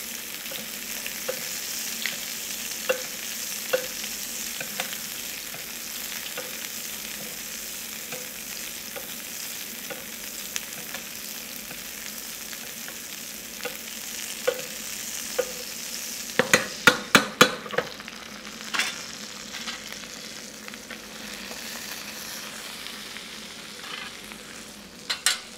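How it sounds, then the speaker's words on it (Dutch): Butter sizzles steadily in a pan as it is spooned over a beef tenderloin, with a run of sharp spattering pops and clicks partway through, up close and with no talking. "Schep de boter een beetje over het vlees heen."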